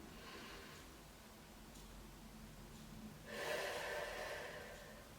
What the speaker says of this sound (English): as you breathe in